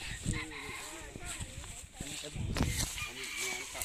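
Chickens cluck and squawk in a rice field, with short, close calls and a few louder cries scattered among quieter farmyard noise while someone talks nearby.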